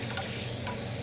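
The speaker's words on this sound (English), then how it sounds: "this is actually the time that I'm leaving them in the oil" Dried chilies sitting in hot oil while making chili oil, a dense continuous sizzle and crackle that stays steady and fairly loud throughout the short stretch.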